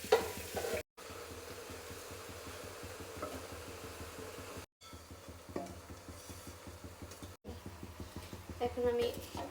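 Polao rice fries in a pan with spices while a spoon stirs it, giving a steady sizzle with rhythmic scraping strokes and occasional clinks against the pan, and someone talks over it.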